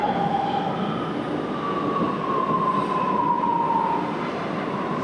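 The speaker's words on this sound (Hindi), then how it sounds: "मेट्रो ट्रेन आ रही है।" Metro train pulling into Alambagh metro station in Lucknow, a steady loud rumble of wheels on rail with a long high squeal as it slows, continuous and close, with no talk.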